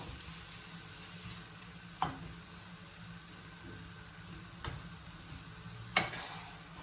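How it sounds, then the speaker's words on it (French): Vegetables added to stuffed-pepper filling being stirred in a pan, with three sparse, faint scrapes of a utensil over a quiet, steady sizzle. "Je vais mélanger le tout."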